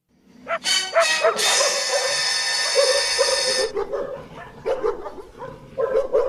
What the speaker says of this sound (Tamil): இதெல்லாம் நமக்கு விசுவாசமான நாய்ங்க உங்களை ஒன்றும் பண்ணாது சத்தம் தான் போடும்